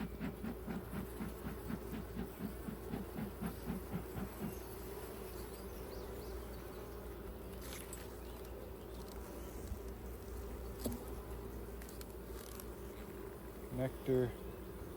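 Honey bees hum around an open hive with frames of nectar, honey and fresh comb, a soft continuous drone with a few louder close passes of single bees; faint and steady throughout.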